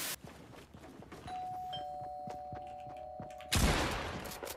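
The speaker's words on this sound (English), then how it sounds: "Ring that doorbell again" A doorbell in Fortnite rings with a sustained electronic tone, close and clear, while scattered bursts of gunfire crackle around it and a louder burst breaks in at the end.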